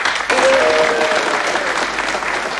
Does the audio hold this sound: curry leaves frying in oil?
no